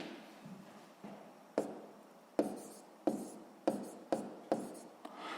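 A pen writing out a sixth-grade math exercise on paper, a series of quiet, distinct scratchy strokes and taps at irregular intervals, close and faint.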